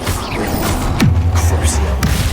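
Bombarda blasting spell explosions in the Hogwarts Legacy video game, two sharp booming hits about a second apart over a constant background of game sound and combat effects.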